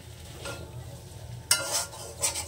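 Boiled potatoes are sautéed in spices over low heat in a pan, for a potato dum with green peas; a soft sizzle runs under a couple of sharp stirring scrapes, close and briefly heard, without talk.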